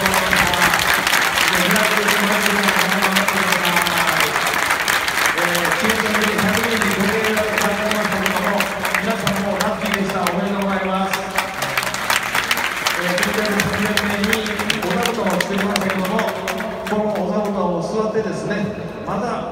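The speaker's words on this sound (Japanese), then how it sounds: "改めて大きな拍手をお願いします" After a Tokyo Verdy football match, the crowd gives a long, sustained round of applause in a large venue. The applause continues steadily for about twenty seconds under loud amplified talking.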